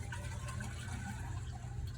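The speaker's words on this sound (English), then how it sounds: "when this one goes, a little bit of water overflows here" Water trickles and gurgles as a small reservoir on a homemade water clock overflows, a soft continuous liquid splashing close by with no voices.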